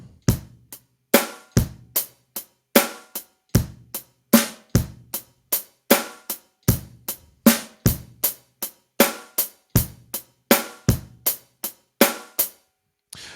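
Drum kit playing a basic steady groove, with crisp kick, snare and cymbal hits repeating evenly in a tight, loud pattern, played alone without voices.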